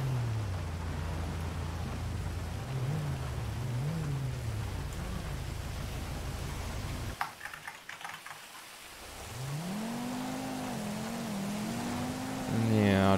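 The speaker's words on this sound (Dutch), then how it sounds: "best hard aan het regenen" Steady heavy rain hisses throughout a roleplay driving game, mixed with a humming vehicle engine that rises and falls in pitch, briefly cutting out before revving up again, with keyboard clicks audible.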